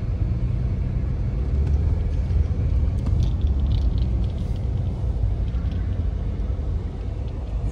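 A traffic jam on a Darjeeling road gives a continuous low rumble of idling and creeping vehicles, steady and fairly loud, with no one speaking.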